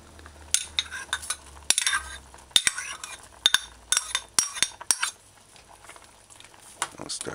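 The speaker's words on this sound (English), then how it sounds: "I'll stir it in." A spoon scrapes and clinks through scallop curry stew in a metal pan, about a dozen sharp, close strokes in an uneven rhythm over a faint sizzle, with no talking.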